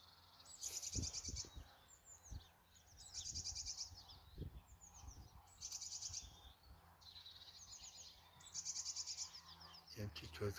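A small bird in a cow pasture gives several bright, short chirping bursts spaced a few seconds apart, fairly quiet against soft outdoor rustling and occasional low thumps nearby.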